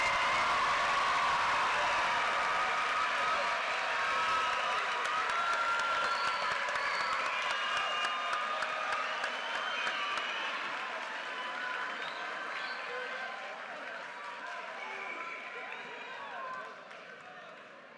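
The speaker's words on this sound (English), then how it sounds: "please give a round of applause for the class of 2024" Sustained audience applause with scattered cheers fills a high school Ring Night ceremony hall for the class of 2024, dense and steady before slowly thinning toward the end.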